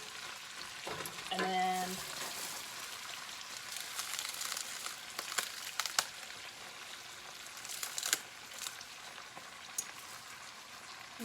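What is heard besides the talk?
dandelion greens wilting in a hot pan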